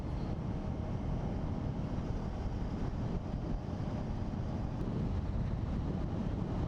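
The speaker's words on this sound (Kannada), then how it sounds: "ನಾನು ವಿಂಡ್ ಬ್ಲಾಸ್ಟ್ ಇರೋದ್ರಿಂದ ಓಡ್ಸೋಕ್ಕಾಗ್ತಾಯಿಲ್ಲ" Steady, heavy wind buffeting a microphone while riding a Kawasaki Ninja 300 at about 120 km/h, a continuous low roar with no voices.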